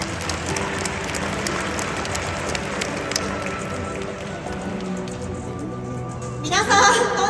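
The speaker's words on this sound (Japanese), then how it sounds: "それでは皆様大きな拍手でお願いください。" Crowd of spectators at an outdoor animal performance show at a Japanese zoo clapping together, a dense sustained patter that thins slightly before a louder burst near the end, with background music faintly underneath.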